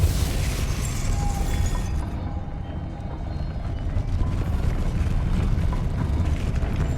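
A Depulso spell cast in the video game Hogwarts Legacy lands as a dull, booming burst, followed by a steady low rumble that carries on for several seconds.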